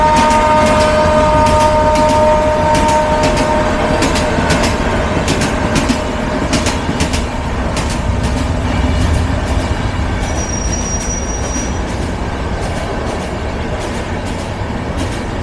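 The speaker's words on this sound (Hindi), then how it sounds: "साहिबाबाद स्टेशन पे इस वक्त हम लोग हैं, काफ़ी गाड़ियाँ यहाँ से निकल भी रही हैं" Trains roll through Sahibabad railway station with loud, continuous rumbling and wheel clatter, sharp rhythmic clicks over the rails, squealing wheels and a brief high horn or whistle near the end.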